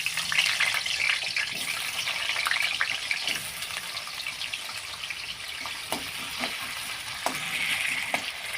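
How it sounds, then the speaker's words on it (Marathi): Potato pieces rubbed with a little salt fry in hot oil, a dense continuous sizzle and crackle with occasional light stirring clicks, close and steady. "तर काहीच हे बटाटा घेतले त्यामुळे थोडंसं मीठ लावून त्याला फ्राय करून घ्यायचं आहे आता हे त्याला फ्राय करायला घेत आहे"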